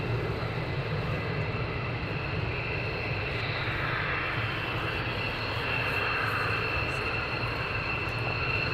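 Seymour Johnson fighter jets taking off at RAF Lakenheath, a sustained, broad engine roar at some distance, even in level, with no talk.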